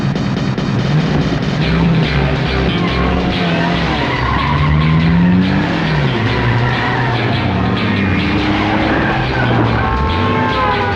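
A car drives hard and skids with long squealing tires and a revving engine, in a loud, continuous street scene with no talking.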